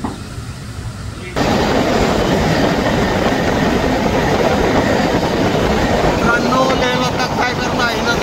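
Panchavati Express train running on rails on the Nashik to Mumbai route near Kasara, loud continuous rumble and wheel clatter heard from inside the train, with a brief rhythmic clickety-clack and squeal near the end.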